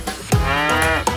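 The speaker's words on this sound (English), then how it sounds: "Cow!" A cartoon cow's moo in a children's farm song about building a farm with toy trucks, one drawn-out call over the song's steady music.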